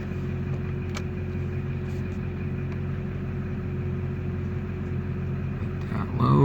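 LB7 Duramax diesel truck engine idling at night, a steady low rumble with a continuous hum, close and even throughout, swelling slightly near the end.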